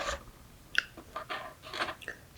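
Sushi and shrimp tempura being bitten and chewed close to the mic: soft, moist crunches and smacking mouth sounds in an uneven rhythm, quiet and intimate with no talking.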